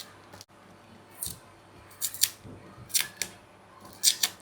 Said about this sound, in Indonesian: Pulang-pulang sampai rumah langsung kita kupas ini singkong atau apa nih, ubi kayu.